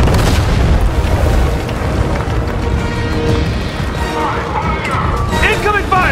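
Explosions and incoming fire in a Fortnite live event rumble as a dense continuous barrage of booms and crashes, loud and close throughout, with game character voices shouting over the din.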